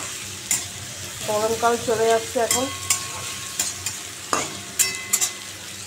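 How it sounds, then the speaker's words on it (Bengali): Bitter gourd and pumpkin sizzle as they fry in a pan, with stirring and scraping clatter close by; someone speaks briefly over the cooking. "তাহলে উচ্ছে আর কুমড়ো ভেজে নিই।"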